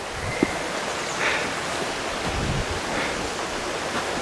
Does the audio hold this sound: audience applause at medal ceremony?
no